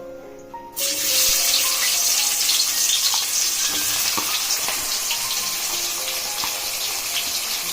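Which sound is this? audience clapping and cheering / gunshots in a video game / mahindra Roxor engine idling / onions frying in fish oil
onions frying in fish oil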